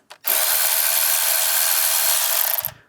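A power tool runs in one loud, steady burst of about two and a half seconds while loosening the 7mm hose clamps on a charge pipe of a 2011-2015 Mini Cooper S, starting and stopping abruptly, with no talking.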